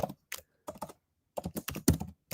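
Typing on a computer keyboard: quick irregular bursts of clattering keystrokes with brief pauses between, close and crisp in a quiet room.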